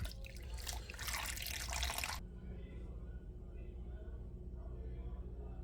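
Warm water, about 110 degrees Fahrenheit, poured for New York style white pizza dough: a loud, close splashing stream lasting about two seconds that stops abruptly, leaving quiet room tone.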